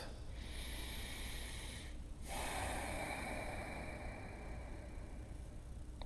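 Deep, slow breaths from someone seated upright in a yoga pose: a long, airy, hissing inhale followed by a steady exhale, close and sustained, with no talking.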